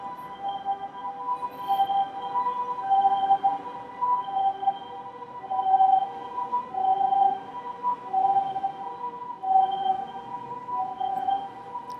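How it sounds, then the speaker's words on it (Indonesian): An ambulance siren passes by, a steady wailing electronic tone that rises and falls in repeating cycles at moderate distance, heard alone without talk. "Entar ya, ada ambulan lewat."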